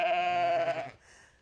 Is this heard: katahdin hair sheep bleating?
yes